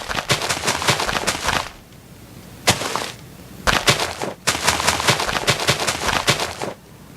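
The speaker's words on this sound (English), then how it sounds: "I'll attempt a big TNT explosion." A big chain of TNT explosions in Minecraft, with dense bursts of rapid, crackling blasts in several loud clusters separated by short pauses, heard alone without talk.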